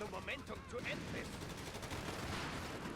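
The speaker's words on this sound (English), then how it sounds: "Sherman using high explosive against the infantry" Rapid gunfire crackles and bursts of explosions from a Company of Heroes 3 battle on the Twin Beaches map, with a Sherman tank firing high-explosive rounds at infantry, busy and continuous, mixed with commentary-like voices.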